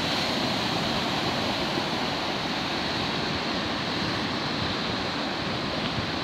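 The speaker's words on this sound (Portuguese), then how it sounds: "Está um mar picado." Choppy sea at high tide, waves churning and washing continuously with a steady, loud roar and some wind rush, no voices.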